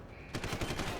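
Rapid automatic gunfire in Deus Ex: Human Revolution bursts in after a brief quiet lead-in, a quick string of sharp, loud shots close up.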